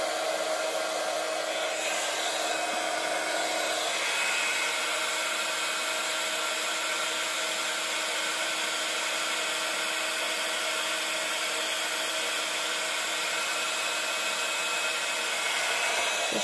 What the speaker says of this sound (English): So heat up your tool, make sure it's nice and warm or hot before you apply it.